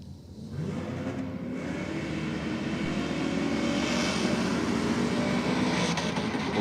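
A drag race car launches off the line with a loud, rising engine roar that builds steadily and holds at full throttle, close and without talk.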